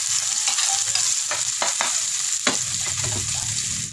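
Garlic and onion sautéing in hot cooking oil, a loud steady sizzle with brief spatters and stirring scrapes throughout, no voices.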